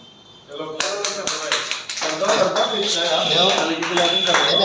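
Several hands clap at close range, a few sharp separate claps first and then a quicker run of claps, with people talking loudly around them.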